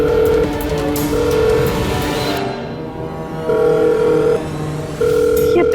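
An unanswered telephone call rings out in a steady repeating pattern of tone bursts with short gaps, fairly loud and alone, with no talking.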